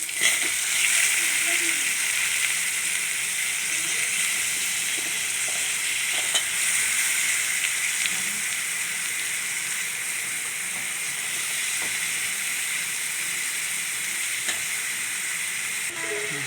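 Chopped ridge gourd and onion sautéing in a hot pan, a steady close sizzle and hiss running the whole time with occasional scrape and stir clicks, while a voice speaks softly at times.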